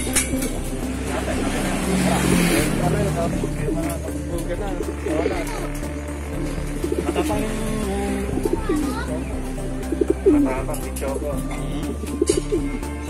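Racing pigeons coo in soft, repeated low calls at a loft, with occasional wing flutters and clatter. The cooing runs under people talking nearby.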